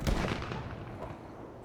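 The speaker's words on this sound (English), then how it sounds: "The gunshot could help us" A single loud gunshot blasts in a zombie survival video game, with a booming low rumble that decays over about a second.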